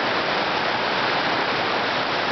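A waterfall beneath a large stone, swollen with snowmelt, roars as a loud, dense, constant rush of falling water with no voices.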